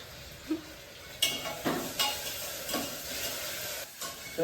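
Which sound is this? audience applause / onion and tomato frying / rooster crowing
onion and tomato frying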